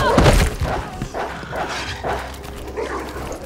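Dogs in the video game Resident Evil 3 Remake attack with loud, repeated barks and yips, mixed with thuds and impact sounds in a close, busy burst of game audio.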